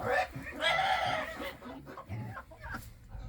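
Range chickens cluck near a coop in a close, irregular run of short calls with some soft background noise.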